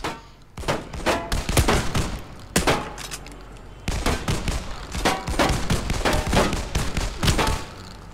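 Rapid bursts of gunfire from the VR shooter John Wick Chronicles, loud and close, with dense volleys and short pauses filling the whole stretch.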